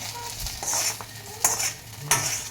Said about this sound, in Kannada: ಸ್ವಲ್ಪ ಎಣ್ಣೆ ಹಾಕ್ಕೊಂಡು ಫ್ರೈ ಮಾಡ್ಕೊಳ್ತೀರಿ